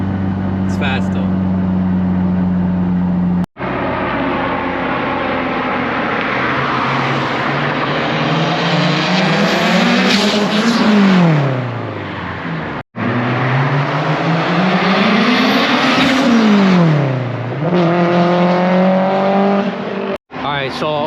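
A fully built, tuned Mitsubishi Evo 8 street car accelerates hard, its engine rising loud and close through the gears in strong sweeps, with short breaks at the shifts and occasional voices inside the cabin.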